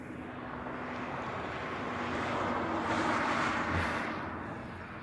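An American Airlines airliner departing from an airport in Hawaii: a broad jet engine roar builds, peaks near the middle and fades gradually, heard at a distance with no talking.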